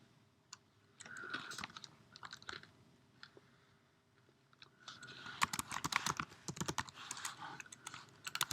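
Fingers tap on a computer keyboard in quiet bursts of irregular clicks, one short flurry and then a longer, denser run of keystrokes close by.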